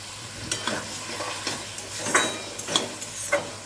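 Fried potatoes tossed in spice masala sizzle in oil for a Bengali shol fish curry, with a steady fry hiss broken by several scraping stirs of the spoon against the pan, close and moderately loud, no voices.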